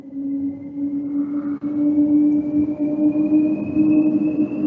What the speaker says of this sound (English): Oh, helicopter is starting.